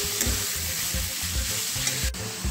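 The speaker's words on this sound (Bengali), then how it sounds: "এদিকে বরবটি আলুগুলো দিয়ে দেব, দিয়ে ভালোভাবে কষাতে থাকবো।" Yardlong beans and potatoes fry in spiced oil in a pan while being stirred, giving a loud, constant sizzle with rhythmic scraping strokes of the spoon, close up and without speech.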